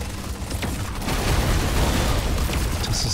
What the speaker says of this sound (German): wenn diese Explosive Bugs explodieren